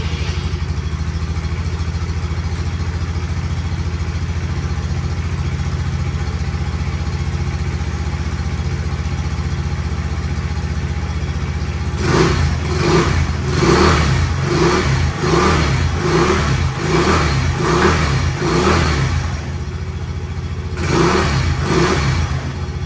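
A Genuine Buddy 170i scooter engine with stock exhaust idles steadily, then revs repeatedly in short bursts, loud and close, with a brief pause before the final revs.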